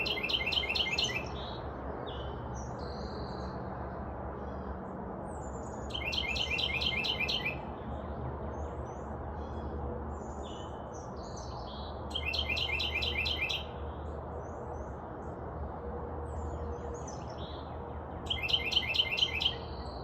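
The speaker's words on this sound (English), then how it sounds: "so you could hear how loud these birds are" Loud birds calling outdoors, bursts of sharp repeated chirping calls recurring every few seconds over a steady low background rumble, with no voices.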